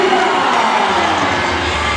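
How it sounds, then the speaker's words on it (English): Crowd at an MPBL basketball game between Zamboanga and Nueva Ecija, shouting and cheering loudly in a dense, continuous roar with a few higher voices standing out. "they are shouting and cheering"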